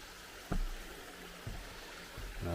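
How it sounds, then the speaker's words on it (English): A creek runs beneath a trail bridge at Black Rock Mountain State Park, a soft, steady rush of water heard from nearby, broken by a few dull thumps. "Here we've got a bridge crossing over the creek here on the James Edmonds."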